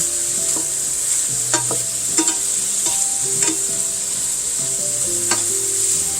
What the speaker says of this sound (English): we're going to brown up our eggplant, and then we're going to set it aside